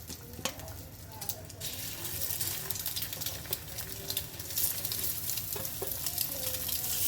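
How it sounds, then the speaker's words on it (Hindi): Eggs fry in masala on a tawa over a low flame, giving a steady, close crackling sizzle with scattered sharp pops throughout. "ऐसा अंडा आपको फ्राई करना है। धीमी आंच पे आपको ये अंडा ऐसा फ्राई करना है।"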